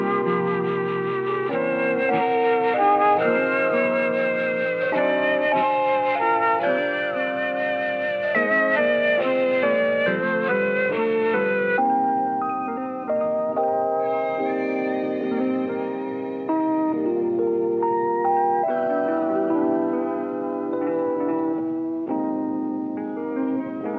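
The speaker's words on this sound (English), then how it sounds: "I found a melody kit. It contains 5 patterns and they sound like this." A sampled melodic loop from a Native Instruments expansion kit played on a Maschine Mikro MK2, layered sustained tones with shifting chords, loud and continuous, changing pattern partway through.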